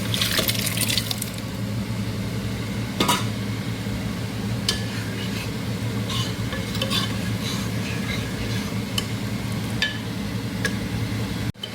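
Kidney beans stirred into roasted masala with oil in a pot, giving a wet, steady bubbling sizzle with a few sharp clinks and scrapes of a spoon, ending in a brief clatter.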